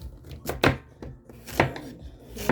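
A knife chops through a purple turnip on a cutting board, several uneven strikes with short pauses between them, close and clear.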